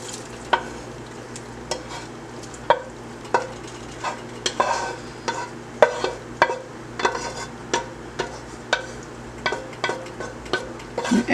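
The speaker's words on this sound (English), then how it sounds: "So my chicken stock here has started to boil" Chicken stock boils in a pot as stuffing is emptied in, with repeated scraping and knocking strikes from a spoon against the pan over a soft bubbling hiss. The strikes are close and irregular.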